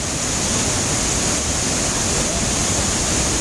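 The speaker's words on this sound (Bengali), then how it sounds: "দেখছেন কি জোরে জল আসছে" A powerful waterfall sends strong rushing water crashing down in a loud, dense, unbroken roar, heard close and filling everything.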